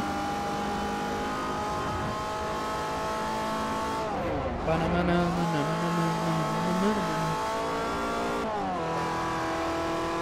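Race car engine in Forza Motorsport 4, Class C European tour, droning steadily with harmonic whine, dipping and climbing through gear changes around laps, loud and continuous with faint tire noise.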